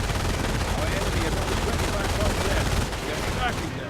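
Sustained rapid gunfire from a tank's built-in machine gun in the World War II strategy game Company of Heroes, a dense, loud rattle of automatic bursts and battle noise running steadily throughout.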